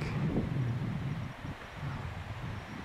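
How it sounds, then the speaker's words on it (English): A steady, low rushing of wind, about 5 mph sustained, buffets the air in the Aspen Basin of the Pecos Wilderness, with a soft rumbling undertone and no voices. "It's a little bit of wind"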